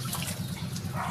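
Warm water poured over a pet dog during a rinse, a steady close splashing and trickling with no voices.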